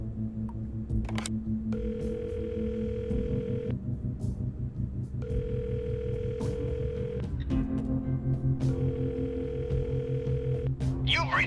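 Telephone in the video game 3 Minutes to Midnight, giving three long, evenly spaced ringing tones over a steady background music bed.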